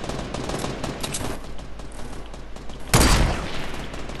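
Rapid Fortnite gunfire rattles in dense bursts through the whole moment, closing with a louder, sharper volley near the end.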